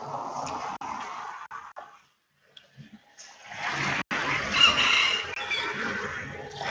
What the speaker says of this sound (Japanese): 鶏が鳴くんですよね。